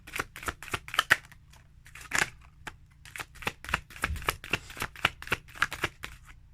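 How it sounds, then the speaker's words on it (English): Tarot cards being shuffled by hand in a run of quick riffling, flapping bursts, close and fairly quiet, with short pauses between the flurries and no talking. "I'm getting one more shuffle."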